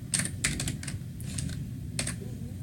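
Rapid bursts of typing on a computer keyboard, close and fairly quiet, with clustered key clicks and short pauses between words, no talk over it.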